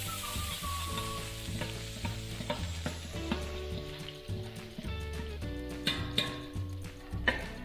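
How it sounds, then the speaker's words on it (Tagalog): Garlic sautés in hot oil in a pan, giving a steady, fairly loud sizzle and crackle with light stirring throughout, and tonal sounds running underneath. "Igisa na po natin yan hanggang mag-golden brown lang po siya ng konti."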